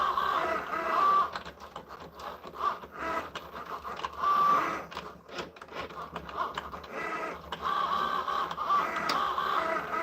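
A Cricut Joy cutting machine cuts gray material, whirring and buzzing nearby as the carriage moves back and forth in uneven bursts.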